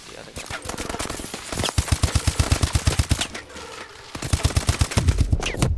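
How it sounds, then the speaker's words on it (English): Rapid automatic gunfire in the video game Call of Duty: Advanced Warfare, loud, close bursts of evenly spaced shots with brief pauses between them, filling the whole stretch. "Trying to shoot the other guy."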